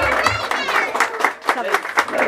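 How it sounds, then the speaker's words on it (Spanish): Audience applause and cheers at a birthday celebration with a youth mariachi band, short bursts of clapping mixed with loud voices and shouts close by. "Y el aplauso."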